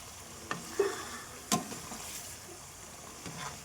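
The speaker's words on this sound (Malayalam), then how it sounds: "നമ്മുടെ ആർ ജി വെളിച്ചെണ്ണയിലാണ് നമ്മളിന്ന് ചിക്കൻ പൊരിക്കുന്നത്" Chicken frying in pure coconut oil, a faint steady sizzle with a few soft clinks and stirring scrapes, no voices over it.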